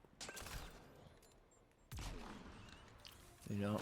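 The Scorpion weapon in Mass Effect Andromeda multiplayer fires in a few bursts of crackling impacts, with a short lull between volleys and a low mechanical hum toward the end.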